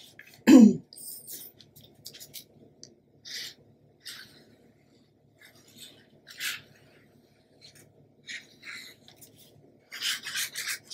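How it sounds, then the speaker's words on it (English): Trimmed paper edges of a Graphic 45 mini album page being inked, heard as short, soft rubbing and scuffing strokes in separate bursts against near silence, with one louder throaty sound early on. "Just need to ink it where we trimmed it."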